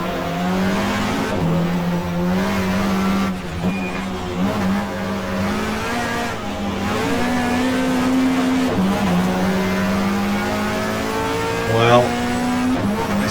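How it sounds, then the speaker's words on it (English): A race car in the GTR2 video game, set at Mallala in a 1994 Australian Manufacturers Championship race, roars loudly with engine pitch dropping and rising through hard braking and downshifts, tyres squealing near the end, while someone talks over it. "Just trying so hard on the brakes."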